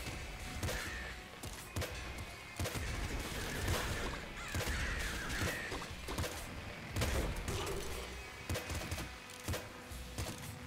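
Explosions in the game Nuclear Throne, a busy run of sharp blasts and thuds going off in irregular bursts amid other clattering in-game effects, fairly quiet overall.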